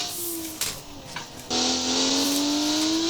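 A Crown Model 8 car in the BeamNG driving game, built in Automation, swings into oversteer, its engine droning steadily with a rising pitch, then jumping louder and revving harder partway through, with no one talking over it.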